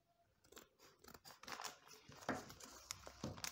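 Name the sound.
cutting Kizuna Z58 badminton string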